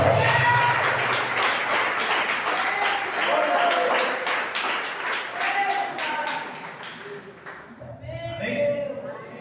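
A church congregation claps loudly during a worship service, a busy stretch of applause mixed with voices and ringing musical tones, thinning out near the end as a voice carries on.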